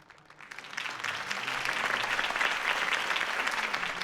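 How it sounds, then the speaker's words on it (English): A video game crowd breaks into sustained applause for a campaign speech, swelling quickly and holding steady as a dense wash of clapping. "If only Mr. Wayne, my campaign's largest backer, could have heard that applause"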